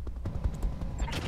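Rapid weapons fire in the mech combat video game Roguetech, a continuous rattling volley of shots and impacts with a faint voice underneath.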